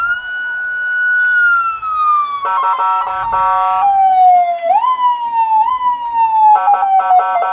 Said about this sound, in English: So the siren goes off again as Cam Hill is up.